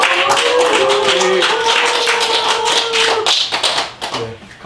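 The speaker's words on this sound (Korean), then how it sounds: "압박의 박수, 응원의 박수 부탁드리겠습니다" Audience at a 5.18 memorial concert clapping in support, a steady wash of applause under an amplified voice that fades toward the end.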